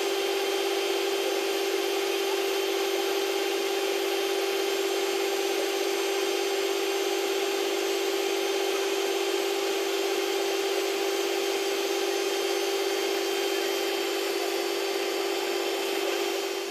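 An electric mixer beats a lemon and honey pudding mixture with a steady, unbroken whir and a constant hum that holds at the same loudness for over fifteen seconds.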